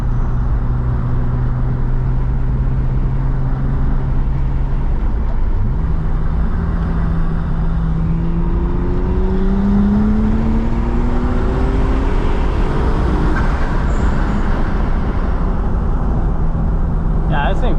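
A supercharged BMW E36 M3 accelerates hard from inside the cabin, its engine tone climbing steadily through the gears in a loud continuous drone with shifts between pulls, while a person talks over it.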